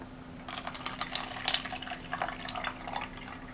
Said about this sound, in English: we're going to take our water that we have here, and we are going to fill it up most of the way